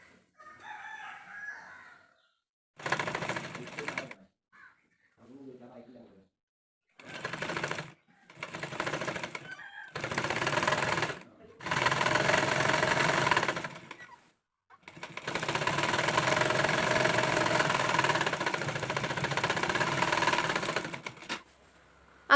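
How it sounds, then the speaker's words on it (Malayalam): A sewing machine stitches a collar onto a kurti, running in a series of close, steady whirring bursts of varying length separated by short pauses, the last run long and continuous. "1/2 ഇഞ്ച് വിട്ടിട്ട് ഈ ഒരു കോളറിൻ്റെ പീസ് വെച്ച് കൊടുക്കാം. എന്നിട്ട് ചുറ്റിനങ്ങ് സ്റ്റിച്ച് ചെയ്ത് പോവാം കേട്ടോ."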